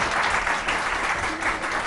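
Studio audience applause on a Pakistani morning talk show, a steady dense clapping that holds at an even level for the full two seconds with no voices on top.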